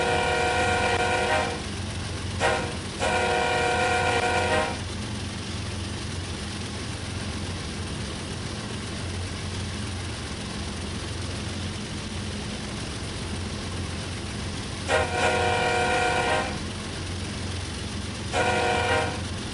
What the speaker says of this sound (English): Ah, he's an ethanol train.